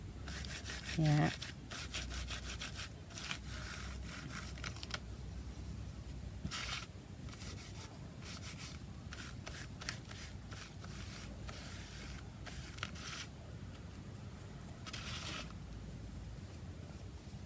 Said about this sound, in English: And I'm going to rub some of this off.